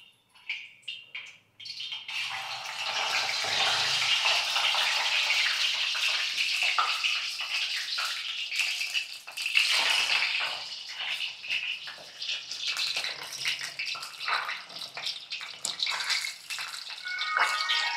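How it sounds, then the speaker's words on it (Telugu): Eggs frying in hot oil in a kadai, a dense crackling sizzle that starts abruptly after a few sharp spits and stays loud and close, with irregular pops and bursts of spatter. "ఈ ఎగ్స్ ఆయిల్లో ఫ్రై చేసుకోవాలి"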